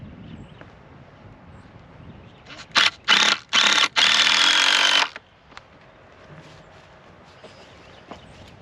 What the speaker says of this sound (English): Thank goodness for cordless saws.